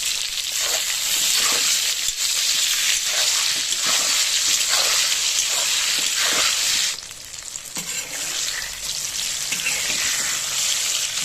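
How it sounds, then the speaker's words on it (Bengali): Steady, loud sizzling of eggplant slices frying in hot oil, with occasional stirring scrapes and a brief dip in intensity partway through. "সামান্য লবণ আর সামান্য হলুদ দিয়ে বেগুনটাকে ভেজে নেব"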